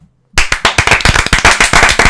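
A short burst of applause starts abruptly after a moment of silence, with loud, close, rhythmic hand claps from a small group continuing steadily.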